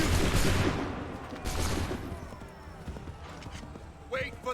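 Musket volley in Assassin's Creed III, a loud burst of overlapping gunfire at the start followed by scattered shots, with horse hooves and a brief whinny amid battlefield noise.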